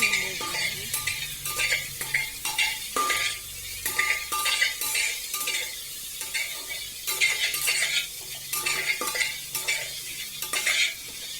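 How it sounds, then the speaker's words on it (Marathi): Onion fries with cumin in a pan for masala rice, a soft sizzle under repeated stirring, with a spoon scraping and clinking against the metal pan in irregular bursts. "आता मी त्यात कांदा टाकत आहे."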